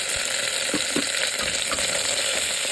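Garlic, onion and tomato sautéing in bacon fat for a low-carb dish, a loud, dense, continuous sizzle with a few soft spoon scrapes mixed in.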